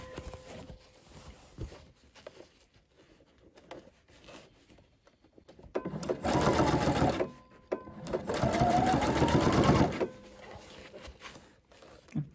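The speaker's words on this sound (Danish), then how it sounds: "Og så er det simpelthen at sy hele vejen rundt her." A sewing machine stitches all the way around the edge of a fabric advent calendar in two close bursts of rapid, steady whirring. Quiet handling noises fill the gaps between them.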